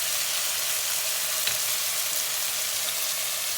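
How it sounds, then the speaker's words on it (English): Chicken and onions sauté in a pan and sizzle steadily, with a continuous hissing fry as soy sauce is added and no one speaks. "So after everything has sauteed together, we add in our soy sauce"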